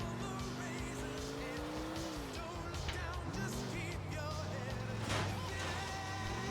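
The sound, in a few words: car driving in Grand Theft Auto IV video game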